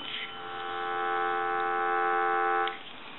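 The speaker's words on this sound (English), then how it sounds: "We'll go ahead and give you some dial tone." A steady, continuous electronic dial tone from a Northern Electric payphone, buzzy and harmonic-rich, holding level for a few seconds before cutting off, with faint background noise.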